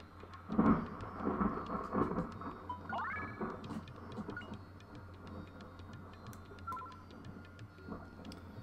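Rolling thunder rumbles low and continuous under steady rain in the role-playing game Grandia, with a heavier crack early on and scattered ticking game sounds on top.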